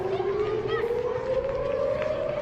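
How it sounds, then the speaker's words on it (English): A civil defense siren playing from a video, its steady wailing tone slowly rising in pitch, loud, over a background of crowd noise and people moving about. "How the Zionist regime reacts to a mere siren."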